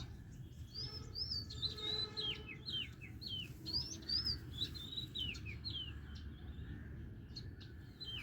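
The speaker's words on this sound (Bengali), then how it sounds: "দয়াল পাখি কিন্তু ডাকছে, শুনতে পাচ্ছেন?" An oriental magpie-robin sings outdoors in a garden: a run of clear, high whistled phrases and chirps, moderately close but quiet, over a soft low rumble of background noise.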